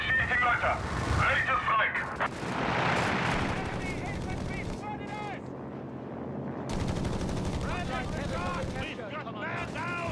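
Strafing gunfire from an air attack in Company of Heroes 3, a World War II strategy game, crackling in dense bursts among other battle noise while a commentator talks over it throughout.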